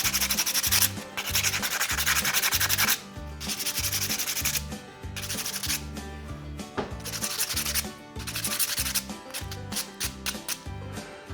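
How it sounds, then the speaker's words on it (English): Wooden spinning top being sanded on a lathe, a steady close rasping rub that cuts in and out in several bursts, with brief pauses between passes. "sand it a little bit"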